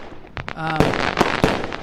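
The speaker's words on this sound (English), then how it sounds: "I don't know why there are fireworks." A fireworks sound effect with sharp cracks and pops in quick succession, several bright bursts over under two seconds, loud and close.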